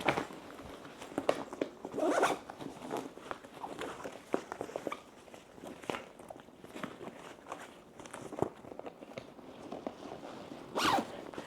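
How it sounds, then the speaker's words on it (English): A travel luggage bag is zipped up in several quick pulls, with rasping zipper runs near 2 and 11 seconds among scattered rustles and handling clicks, close and moderately quiet. "Let's zip this up real quick."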